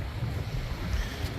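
Strong wind blows across a beach on the south coast of the UK at night, a constant close roar buffeting the microphone, with surf rumbling low underneath.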